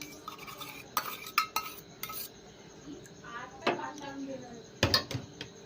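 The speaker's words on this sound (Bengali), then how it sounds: "এবার ডিম আর দুধ একসাথে ভালো করে ফেটে নিতে হবে" Eggs and milk, boiled and flavoured with cardamom, whisked together in a bowl for caramel pudding. The whisk clinks against the bowl in several sharp bursts, with quiet stirring and kitchen noise between them.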